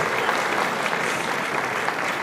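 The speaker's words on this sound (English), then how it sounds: "please give a round of applause to my wife" Steady audience applause at a comedy show, dense even clapping from a crowd that holds for the whole stretch with no voices above it.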